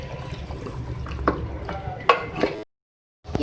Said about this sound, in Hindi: ये देखिए, मैं इसको जो है भून रही हूँ अच्छे से